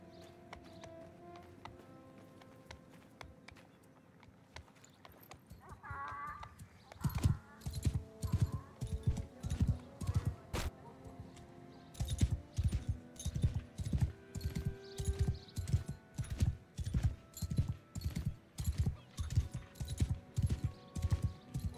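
Horse hooves clip-clop in Mount and Blade Bannerlord, a quiet stretch followed by steady, rhythmic hoofbeats close by that continue to the end with no talking.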